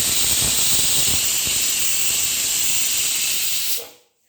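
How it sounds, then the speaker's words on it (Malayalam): Pressure cooker on high flame cooking aviyal vegetables, releasing a loud, steady steam hiss that runs nearly four seconds before cutting off abruptly. "ഹൈ ഫ്ലെയിമിൽ ഒരു വിസിലടിച്ചു."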